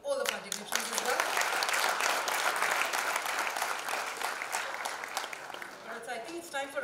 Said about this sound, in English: enthusiastic round of applause ho jaye to welcome all of our dignitaries as well